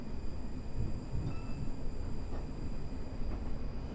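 An SWR passenger train rumbles past in the Train Sim Classic video game, a steady low rolling drone with faint rail clatter, moderately loud and alone.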